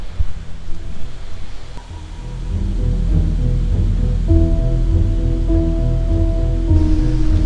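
Langlok waterfall deep in the Bandarban hills, heard as a broad, steady rushing roar that swells and then holds loud and constant, with a faint tonal hum layered underneath.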